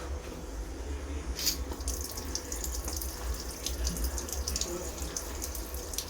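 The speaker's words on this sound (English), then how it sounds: "Now we will first open the tap." A water tap on a garden timer's high-pressure test setup is opened, and water runs in a steady hiss with a few brief splashes and clicks, moderately quiet and without talking.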